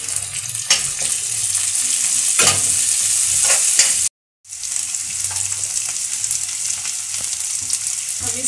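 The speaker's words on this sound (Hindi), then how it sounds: "और इनको भी हम भून लेंगे।" Onion and capsicum fry in a pan for a veg manchurian, a loud, continuous sizzle with stirring clatters, briefly cutting to silence before the frying resumes at the same strength; no speech.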